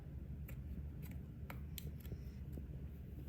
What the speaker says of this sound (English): I'm going to use my specialty scissors, and I'm going to cut away a little bit of the top back of the bonnet.